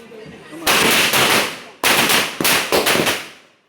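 Diwali firecrackers burst in a dense, loud crackling string, break off briefly, then resume with a few more rapid volleys before dying away.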